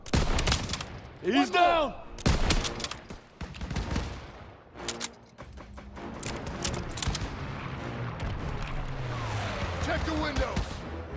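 Rapid gunfire and bursts of shooting from a Call of Duty WW2 campaign battle on PS5, crackling under shouted soldier dialogue, with sharp shots scattered throughout and a steady rumble of combat behind.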